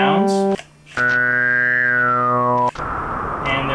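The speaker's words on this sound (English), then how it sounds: "So each position is some type of drone, maybe a constant pitch or something." A homemade cardboard disc sequencer switches between sustained electronic drones, a buzzy steady tone cutting off into a brief gap, then a long bright pitched drone that bends slightly before giving way to a noisier hiss.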